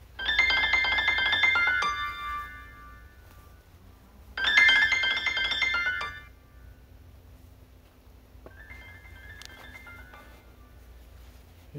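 A phone ringtone plays in two loud electronic bursts separated by a pause, followed by a fainter tone later, with no voices over it.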